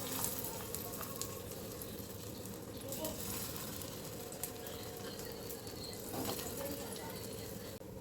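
Matar (pea) cutlets frying in oil on a gas stove, giving a steady close sizzle that runs throughout with a few faint clinks and no voice on top.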